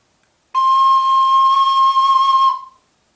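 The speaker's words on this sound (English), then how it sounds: "On a D tin whistle, you can also play a regular C, a C natural." A C natural played on a D tin whistle: one steady, clear, bright whistled note held for about two seconds, close and loud, then tapering off, with no talk.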